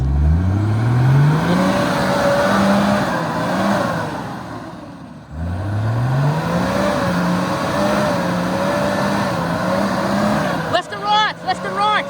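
A car on a firewood trip drives forward under power, its engine note rising steadily through two long pulls in a loud, close drone, with a brief, sharper sound just at the end.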